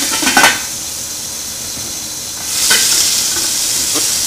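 Beef pot roast searing in a hot pot for a Cajun dish, a loud continuous sizzle and hiss close up, with a clatter of a utensil and pot at the start and the sizzle swelling again as the meat is flipped.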